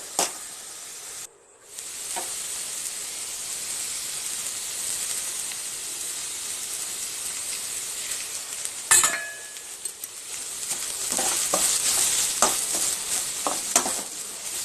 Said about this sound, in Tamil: கொஞ்சம் கொஞ்சமாக ஆட் பண்ணி நெய் நல்லா வதக்கிட்டே இருங்க, அடி பிடிக்காத அளவுக்கு